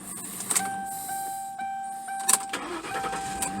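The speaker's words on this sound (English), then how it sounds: "And it made that big V8 spin really fast." A big V8 engine cranking over fast on a Noco GB-70 battery booster, a close whirring starter drone with clicks and small bursts, fairly quiet and brief.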